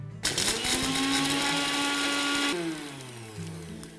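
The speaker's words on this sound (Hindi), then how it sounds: "इसे हम बढ़िया से ग्राइंड कर लेंगे।" An electric grinder whirring through about half a cup of pistachios in a home kitchen: a loud, high motor whine that starts abruptly, holds steady with a rattling grind, then shifts pitch and winds down.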